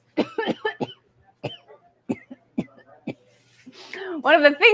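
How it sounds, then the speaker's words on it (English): Several short, harsh coughs in quick bursts, close up, with breathy gaps between them and a bit of voice at the end. "I'm trying to talk and I just keep coughing."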